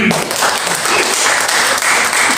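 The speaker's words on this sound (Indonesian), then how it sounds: "Tepuk tangan bagi kita" A church congregation at a Jakarta praise and worship service breaks into loud, dense applause, a continuous wash of many hands clapping with no gaps.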